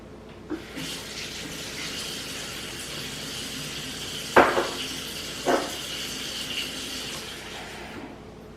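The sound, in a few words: water poured in to dissolve yarn dye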